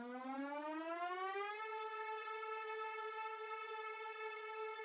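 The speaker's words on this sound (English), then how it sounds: "So I automated the pitch, kind of made it wind up like a siren." A pitched-up sample in a remix is automated to wind up like a siren, its tone rising smoothly for about a second and a half and then holding a steady, loud, harmonically rich pitch.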